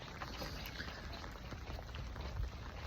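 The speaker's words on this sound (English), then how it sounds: "Walking in the rain right now." Rain patters steadily outdoors while someone walks through it, a soft continuous hiss of drops with scattered taps, moderately faint and without speech.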